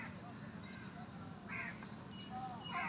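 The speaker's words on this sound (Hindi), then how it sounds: "ये सुन रहे हैं आप परिंदों की आवाज़ें जो हैं, रूह को बड़ी ताजगी बख्शती हैं" Crows caw repeatedly outdoors on a morning walk, with other birds calling around them over a steady background hiss. A voice murmurs faintly underneath.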